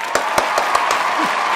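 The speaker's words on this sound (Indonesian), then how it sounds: "Kita tepuk tangan lagi untuk Bang Sadi." Audience applause for beatboxer Sadi at an Asia beatbox battle, a dense steady wash of clapping with a few sharper claps standing out over 1.5 seconds, a brief voice sound near the end.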